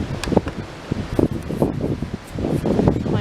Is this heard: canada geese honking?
no